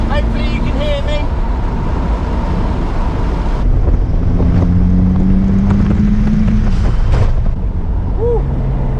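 Open-top Vauxhall VX220 Turbo driving with the roof off on a windy day, a steady roar of wind buffeting and engine drone throughout, with a voice talking and whooping over it.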